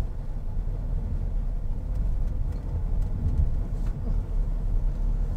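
A Toyota Veloz MPV driving through a curve, heard from inside as a steady low road and engine rumble with faint rattles, continuous and fairly loud throughout.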